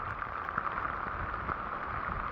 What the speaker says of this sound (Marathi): पावसाचा जोर जबरदस्त वाढला आहे